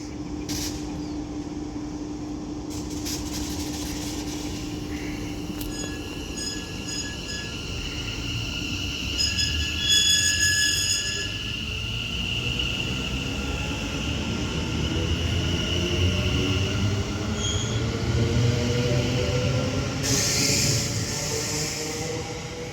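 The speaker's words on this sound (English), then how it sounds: "Now departing is going to be the 1549 London North Western Railway service to London Euston." A London North Western Railway service to London Euston pulls out of Lichfield Trent Valley, a low rumble building as carriages roll past with rhythmic wheel clatter, tonal whines and brief high squeals overhead.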